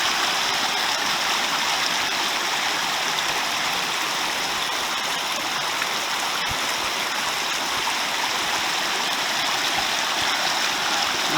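Forney Creek in the Smoky Mountains rushes steadily at a trail crossing near a backcountry campsite, a loud, unbroken wash of flowing water heard up close with no voices.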